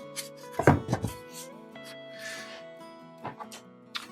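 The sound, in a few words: hot knife carving terrain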